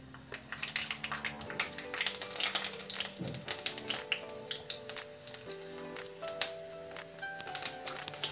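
Tempering spices splutter in hot oil in a pan, giving soft, quick crackles and pops at low volume over a faint tonal background.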